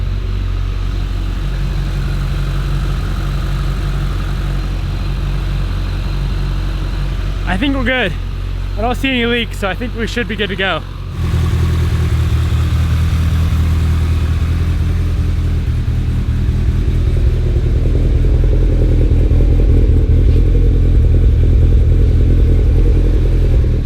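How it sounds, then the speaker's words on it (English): Popcorn Evo X engine fires up after a short spoken remark and settles into a loud, steady idle rumble that grows slightly fuller toward the end, with someone talking over the start. "let's fire her up and make sure we don't have any more leaks"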